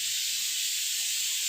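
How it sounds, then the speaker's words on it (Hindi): A pressure cooker releases steam while chana pulao cooks in an Indian home kitchen, producing a steady, loud, close hiss that runs unbroken throughout. "मैं तो बिरयानी की, खिचड़ी की, जो भी पुलाव बनाऊँ उसकी कुकर की गैस जल्दी रिलीज़ कर लेती हूँ"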